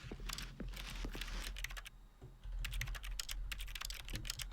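Rapid keyboard typing from The Stanley Parable video game, a steady run of sharp key clicks in bursts with a brief pause midway, close and clear with no talking.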